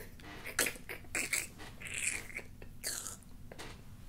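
A person makes crunching noises with their mouth to imitate biting into fried battered food. The short crisp bursts come irregularly and close to the mic, quiet, with no words.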